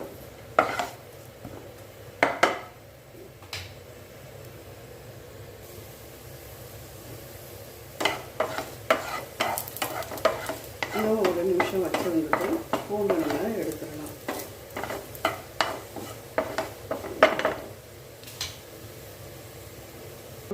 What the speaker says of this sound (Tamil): பூண்டு நல்லா ப்ரௌன் கலராக வதங்கணும். அது வரைக்கும் வதக்கிக்கோங்க.